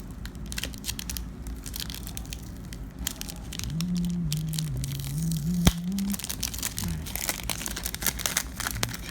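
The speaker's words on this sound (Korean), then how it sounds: "일단 비닐 포장 뜯었고" Plastic wrap is torn and crinkled off the box of a MoYu WeiLong GTS2 speedcube with a series of close, sharp crackling rustles, while a low hum runs underneath.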